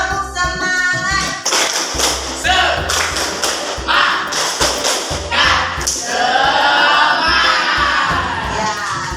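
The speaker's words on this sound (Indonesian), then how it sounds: "Baik, kita tepuk semangat." A school class claps the tepuk semangat rhythm in a classroom, loud and near, with patterned bursts of clapping and thumps mixed with children chanting and shouting along.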